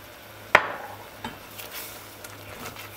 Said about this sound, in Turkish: Şimdi makarnayı içine ilave ediyorum. Güzelce karıştırıyorum.